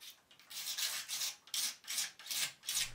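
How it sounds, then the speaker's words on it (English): A Stanley blade scrapes old gasket material off a metal swivel pin housing in about six short, rasping strokes, close and fairly quiet, each push a gritty scratch with brief pauses between. "I've left the gaskets on, which I'm going to remove with a Stanley blade"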